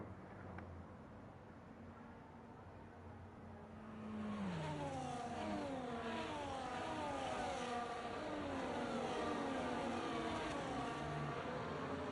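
Race cars in a racing video game weaving left and right down the back straight at Abu Dhabi, engines rising and falling in overlapping high whines that swell louder after a quieter opening.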